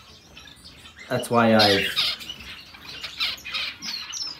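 Pet zebra finches chirp faintly in the background, with small high tweets scattered throughout while someone talks over them.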